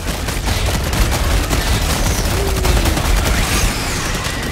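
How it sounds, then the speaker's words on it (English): Strafing-run airstrike in Helldivers 2, heard as a dense, loud, continuous rattle of rapid gunfire and impacts that roars steadily for several seconds. "Strafing run going down."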